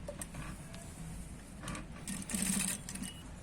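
Sewing machine stitching the seams of a Patiala salwar in short runs, its rapid mechanical chatter coming in bursts, with a louder run near the end and brief quiet gaps between.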